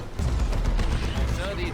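Executioner cannon fire from a Leman Russ tank in Dawn of War 2 Retribution, a dense run of booming blasts and rumbling impacts in a Warhammer 40k battle, loud and continuous under excited commentary.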